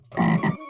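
A single short, deep frog croak, close and clear, with a brief double pulse.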